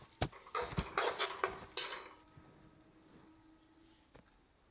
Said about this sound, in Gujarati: હવે બધાને આપણે સારી રીતે મિક્સ કરી દઈએ.